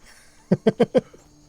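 Horse hooves in the video game Skyrim make four quick, evenly spaced clip-clop thuds. The steps are close and moderately loud, then the sound drops back to a quiet game ambience.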